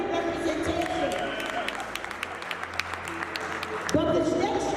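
An audience claps at a Ghana Independence flag-raising ceremony in Newark, scattered hand claps over a crowd murmur, with a voice speaking over the applause near the end.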